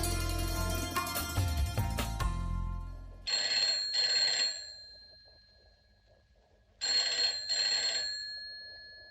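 A telephone rings with an incoming call in a home, two double-burst rings separated by a pause, loud and alone after a brief noisy start.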